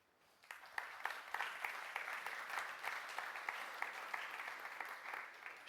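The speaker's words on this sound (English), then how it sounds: "Applause, please." Audience applause at an education talk, a dense patter of hand claps that swells in quickly after a quiet start and holds steady, moderately distant in a hall.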